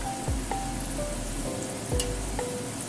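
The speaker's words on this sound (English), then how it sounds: "Then add the liquid into the wok." Braising liquid for beef shanks poured into a hot wok, giving a steady sizzling hiss with a few low splashy thumps as the liquid hits the pan, close and fairly loud with no talk.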